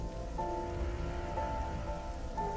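Steady rain patters across a surface in a visual novel soundtrack, dense and continuous, with a faint high tone recurring in the background.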